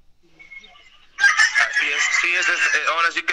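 A rooster crows loudly and close up in one long, drawn-out call that starts abruptly after a near-silent second. A faint high call is heard beforehand.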